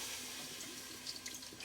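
Water from a tap runs steadily into a pot for pasta, a soft continuous splashing rush, fairly faint with no voices.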